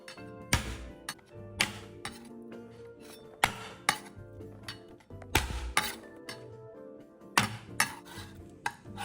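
Shelled, deveined shrimp pounded with the back of a knife on a board, giving about ten sharp, spaced thwacks with a ringing metallic edge and small clinks between them, close and loud with no speech.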